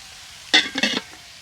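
Eggplant slices are turned over in a dry wok without oil, making two quick, close scraping sizzles in a row before it goes quiet again.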